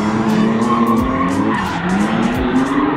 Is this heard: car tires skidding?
yes